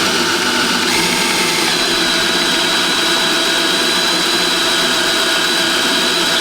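Steady, loud whine and grind of a hand drill cutting through a steel knife blank at a centre-punched hole, continuous and unbroken with a slight shift in tone near the start, nobody speaking.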